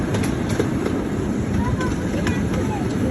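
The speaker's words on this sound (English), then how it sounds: "Pulling our little train today is locomotive number 340. 340 is a 1/3 scale replica of a steam engine that was built in 1863." One-third scale replica steam locomotive, number 340, modeled on an 1863 engine, pulling a ride-on train; steady rumbling rolling noise with faint squeals, under nearby talk.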